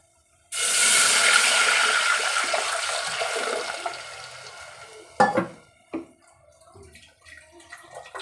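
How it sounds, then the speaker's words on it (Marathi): Water pours steadily into a pot with cloves for biryani rice, a loud rushing splash, easing off, then a few clinks and knocks of the vessel follow. "तर आपण याच्यामध्ये पाणी टाकून घेणार आहोत"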